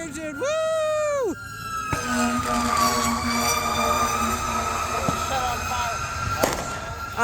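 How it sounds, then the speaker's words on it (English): A fire engine siren wails nearby, rising and falling loudly over crowd noise and scattered pops at a night fireworks gathering at a church, with someone speaking over it. "Oh, and here comes the fire engine."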